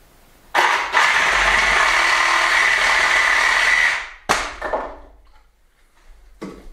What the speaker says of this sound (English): we're using the old Sawzall reciprocating saw. I'm just going to chop him off